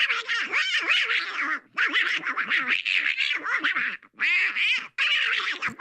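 A voice imitates Donald Duck's quacking speech in a loud, close run of nasal, squawking bursts with brief pauses between phrases, as though a broadcast studio is playing or performing the impression.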